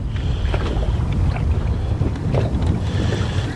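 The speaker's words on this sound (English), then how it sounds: "It's a little bit of wind this morning." Steady wind rushes across a lake on a fishing morning, a continuous low roar with buffeting on the microphone and faint water lapping, constant and fairly loud throughout with no talking.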